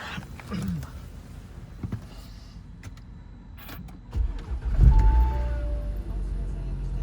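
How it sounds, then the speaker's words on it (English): A 2017 Audi A6 2.0T cranks and catches around the middle. Its engine then settles into a loud, low, steady idle close by, following some earlier clicks and mechanical noises. "Let's start it up, just hear how it sounds"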